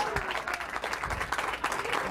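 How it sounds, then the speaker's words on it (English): An audience claps for a volunteer at a Las Vegas stage magic show, a steady, dense burst of applause at moderate level throughout. "Give him a big round of applause"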